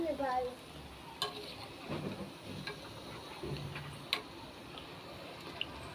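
Sweets fry quietly in a pan, a faint continuous sizzle broken by soft clicks and taps as they are turned and stirred.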